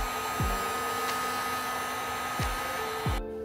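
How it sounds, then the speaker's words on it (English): A heat gun shrinks heat-shrink tubing over crimped wires while installing a truck horn. It blows a steady, close hiss-like drone with a few faint clicks, then cuts off abruptly near the end. "Now I'll put this heat shrink over it and melt it with a heat gun."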